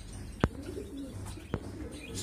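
Soft cooing of pied (kabra) pigeons in the background, with two sharp clicks or wing sounds standing out briefly.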